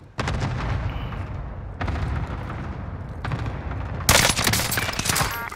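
Rapid automatic gunfire from a video game plays in loud, dense bursts, separated by brief gaps, with a sharper, louder volley near the end.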